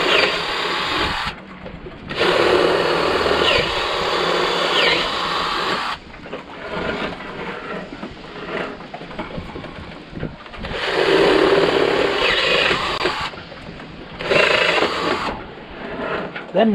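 Power drills run during boat repair work, with loud whirring bursts that start and stop several times and quieter mechanical noise in between.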